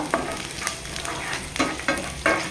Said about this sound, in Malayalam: വെളുത്തുള്ളി ഇട്ട് കൊടുക്കാം ചെറിയ വെളുത്തുള്ളി ആയതുകൊണ്ട് ഞാനത് കട്ട് ചെയ്തിട്ടില്ല